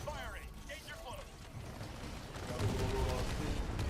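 Gunfire and explosions from the video game Titanfall 2, a burst of rapid shots and dense booming blasts that grow louder in the second half, mixed with game voices and talk.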